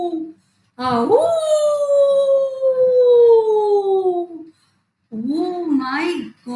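A voice imitates a jackal howling, a long loud drawn-out howl with falling pitch followed by a shorter wavering howl after a brief pause.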